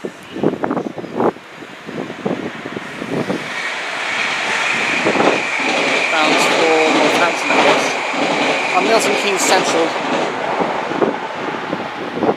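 A train runs along the up fast line at Willesden Junction, a steady loud rumble and rolling wheel noise building and holding for several seconds, with a brief voice talking over it early on.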